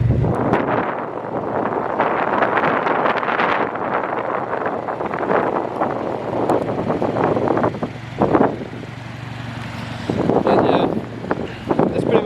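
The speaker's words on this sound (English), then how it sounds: "It's getting a little windy." Gusty wind buffets the microphone with a steady rushing roar, rising and falling across the whole stretch, with no voices.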